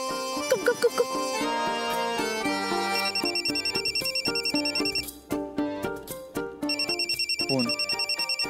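A mobile phone rings with a melodic electronic ringtone that repeats a bright chiming pattern for several seconds, loud and close, with background music underneath.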